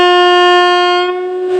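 A train horn blares in one loud, sustained, steady tone for well over a second, with a slight dip and flutter near the end.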